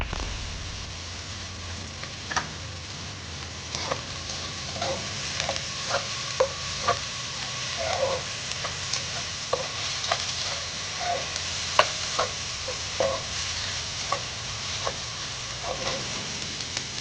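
Onion, chili and ginger sauté in a pan for Bicol Express, a steady close sizzle broken by repeated clinks and scrapes of a utensil stirring, with no voices.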